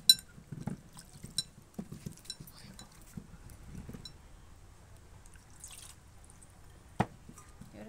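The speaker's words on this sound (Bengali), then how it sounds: "এবার আরেকবার আবার একটু ধুয়ে নেব" Peeled hog plums are rinsed in water, giving scattered drips, splashes and light clinks of a bowl, with a sharp knock near the end and quiet gaps between.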